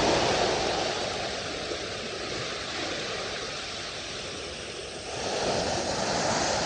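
Steady rush of flowing water at a farm, a loud, broadband wash that holds constant throughout with a slight surge near the end, no voices.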